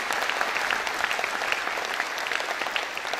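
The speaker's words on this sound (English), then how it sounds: "Let us give a big round of applause to that parent and those grandparents who came onto the stage." Parents and children applaud at a primary school cultural day, a steady, crowded patter of clapping hands at moderate volume with no pause.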